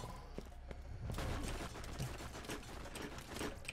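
Rapid bursts of enemy gunfire in the shooter Borderlands crackle steadily over a rumbling background, quiet overall and with no talking.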